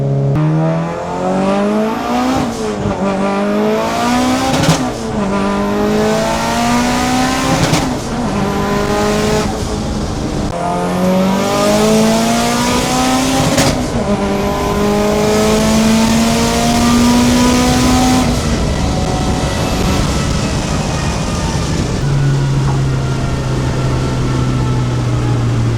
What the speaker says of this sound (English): Obviously the all-wheel drive, the built motor, this thing pulls.